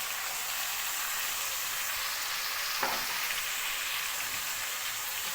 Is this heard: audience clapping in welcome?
no